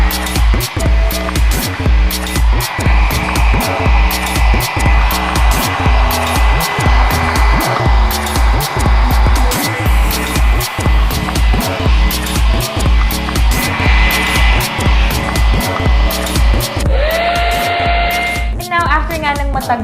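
A hair dryer blows steadily on curled hair set in curlers, a loud continuous whoosh with music playing throughout and a brief pitch shift near the end.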